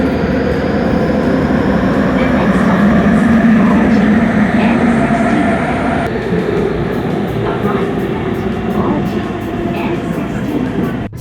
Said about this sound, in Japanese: 東急の車両で来ましたね。